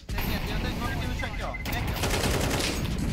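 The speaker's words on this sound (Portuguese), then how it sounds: "Nossa, tomou muito tiro, cara." Rapid bursts of automatic gunfire from a Counter-Strike 2 match crackle loudly and continuously across the whole stretch, with in-game effects mixed in.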